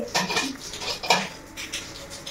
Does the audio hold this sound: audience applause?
no